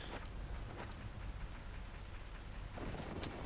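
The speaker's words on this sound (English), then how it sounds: "and then it stopped as the rain kicked in" Rain falling in the video game The Legend of Zelda: Ocarina of Time, a steady broadband hiss of downpour with faint scattered chimes, continuous and moderately loud for a few seconds.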